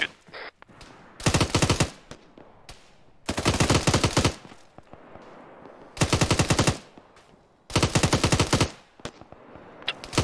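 Machine gun fire in Arma 3, a military combat video game, rattling out in four loud sustained bursts separated by short pauses, with faint background noise between bursts.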